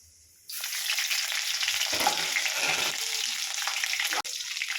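Chopped garlic and chili dropped into hot oil burst into a loud, dense sizzle that holds steady while being stirred, starting abruptly after a quiet moment and briefly cutting out near the end, without speech.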